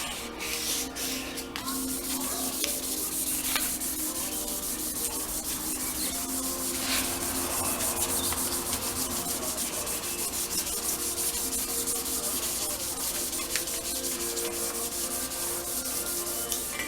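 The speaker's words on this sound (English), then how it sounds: "I just take my 1100 sanding paper, very lightly, just rub it to get all the sanding marks in the same direction." A brass piece is rubbed very lightly with 1100 grit sandpaper, giving a steady, close, continuous fine scratching hiss that runs unbroken with no voices.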